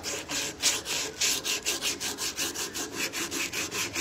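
Rhythmic back-and-forth strokes of hand sanding across a damaged, chipped wooden furniture surface, a steady repeating rasp at about four strokes per second, close and alone with no talking.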